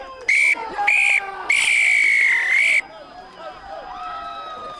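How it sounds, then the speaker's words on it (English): A referee's whistle at the end of a rugby union match between St Austell and Lydney, blown in three loud, shrill blasts: two short toots and then one long held blast, with crowd murmur and distant voices beneath. "Referee blows the final whistle."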